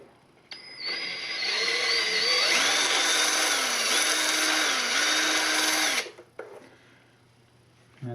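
An old 5/16 reamer cleans out a hole on a Bridgeport mill: a motor whirs up, shifts pitch a few times and runs steadily for about five seconds before stopping abruptly, close by with no talk.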